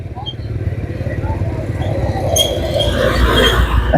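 Motorcycle engines buzz and rumble close by in a traffic jam at a busy market, with a voice talking over the steady traffic din that grows slightly louder.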